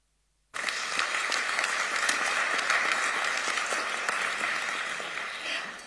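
An audience at a climate dialogue opening at a foreign ministry in Berlin bursts into sustained applause after a speech, dense clapping that starts abruptly and holds steady for several seconds before tapering slightly.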